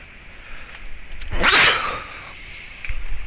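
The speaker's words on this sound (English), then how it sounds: "I gotta sneeze" A single sharp human sneeze bursts out mid-clip, loud and close, with a faint rustle on either side and no talk.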